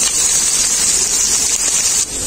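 Whole cumin and chopped onion sizzle in hot oil in a pan, a loud, steady crackling hiss with no voices, dipping slightly near the end.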